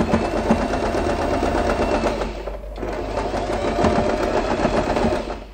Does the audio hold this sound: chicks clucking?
no